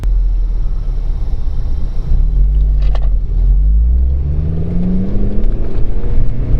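A Honda Civic Si drives along with a steady low engine rumble and road noise inside the cabin, a rising tone suggesting it pulls through the gears, continuous and close.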